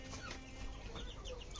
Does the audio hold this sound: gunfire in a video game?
no